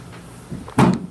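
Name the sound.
back door closing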